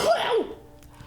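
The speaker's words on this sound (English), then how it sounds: "Sorry, made me sneeze." A single short human sneeze, sharp and close, then a brief quiet tail.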